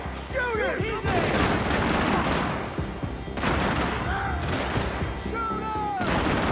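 Gunfire rings out in a firefight in the Max Payne 3 video game, with dense bursts and booming shots packed closely together under shouted voices and a tense music bed throughout.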